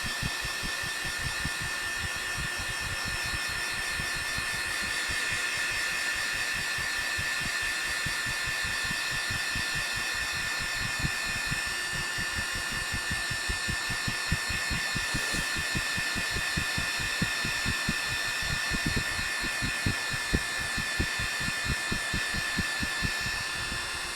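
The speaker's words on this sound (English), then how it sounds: "I'm breaking out the heat gun again because I got to dry the black paint I just applied here" Heat gun drying black paint on a 3D printed monster truck model, a steady whooshing hum with fine rapid throbbing that runs unbroken at moderate level throughout.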